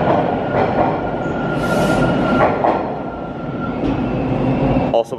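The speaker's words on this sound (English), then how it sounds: "Like every train car in Toronto makes that sound" A Toronto transit train car rumbles loudly along the track, wheels squealing and screeching in bursts over the constant roar, with no talking.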